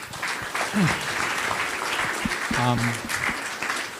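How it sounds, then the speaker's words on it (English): An audience gives a round of applause for Prabowo at a formal event. Steady clapping from a crowd is mixed with scattered voices. "Please give Pak Prabowo rounds of applause."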